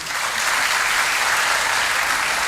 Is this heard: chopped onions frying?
no